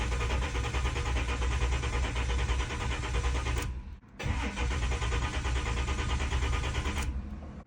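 A 600HP Cadillac drag car engine with a new fuel filter cranks without firing, getting no fuel. The starter grinds loudly and steadily up close for several seconds, stops briefly, then cranks again and cuts off.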